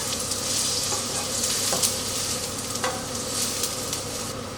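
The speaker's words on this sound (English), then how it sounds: "Extra virgin olive oil in a hot wok. First step is the finely chopped red onion." Finely chopped red onion frying in extra virgin olive oil in a hot wok, a loud, dense, continuous sizzle with a few sharp pops and spatula scrapes, close up.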